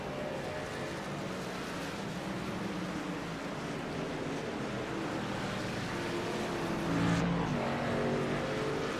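Race trucks at the Red Bull Ring in a racing video game roar past as one runs a steady engine drone, with a louder swell near the end as the leader comes through to lap a slower truck.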